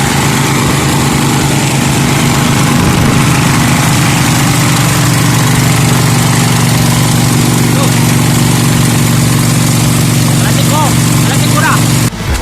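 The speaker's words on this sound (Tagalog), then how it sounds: "Mga makina nila guys, no?" Boat engines running at night: steady droning motor hum with a low, constant tone throughout, loud and close, with faint voices mixed underneath.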